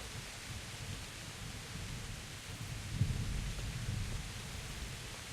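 Thunderstorm in the video game Kingdom Come Deliverance: steady hissing rain with a low rolling thunder rumble swelling midway, fairly faint, no talking.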